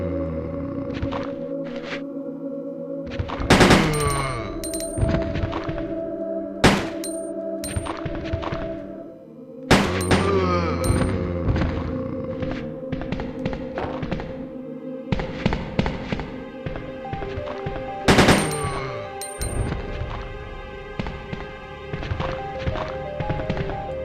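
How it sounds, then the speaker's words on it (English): Gunshots fired at zombies in Resident Evil 2 ring out as loud, booming blasts, several spaced apart over a continuous backdrop of tonal game music and ambience, with no talking. "I'll try round up a couple of zombies together and we'll fire off a shot"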